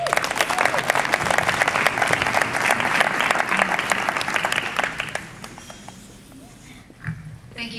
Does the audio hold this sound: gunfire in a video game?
no